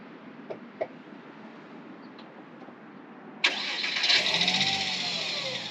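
A 1999 Porsche Boxster's 2.5-liter flat-six boxer engine cranks and catches after a few faint clicks, then settles into a steady idle, close and fairly loud.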